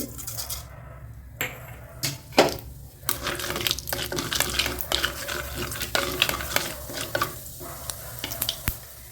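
Mustard seeds and urad dal crackle and pop in hot oil while tempering sambar, with sharp sizzling bursts and stirring clinks over a steady frying hiss.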